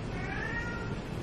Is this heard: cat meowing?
yes